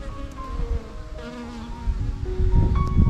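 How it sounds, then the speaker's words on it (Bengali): Honey bees buzzing close by over a mustard field, a steady droning hum with individual bees passing near and away, loud and continuous outdoors. "একটা সুন্দর স্মেল আসছে নাকে এই যে মৌমাছি"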